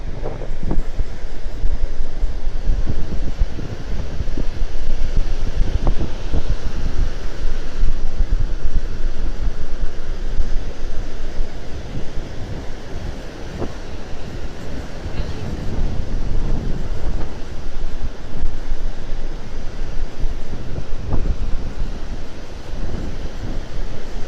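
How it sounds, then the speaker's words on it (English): Ocean surf at a beach under a strong offshore wind, constant roaring wind buffeting the microphone over the rumbling wash of waves, loud and unbroken throughout. "Typically an offshore keeps the face of the waves open and real pretty for that that surfing activity."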